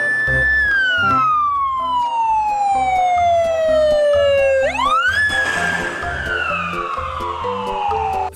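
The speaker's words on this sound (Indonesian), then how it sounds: "Widih, ada mobil ambulan." A toy ambulance gives off a loud electronic siren that glides slowly downward, jumps back up, then falls again, continuous and close with a faint rhythmic rattle beneath.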